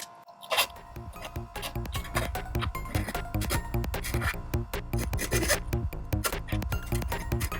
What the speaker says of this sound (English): I'm just going to file down the burrs a little bit with a hand file.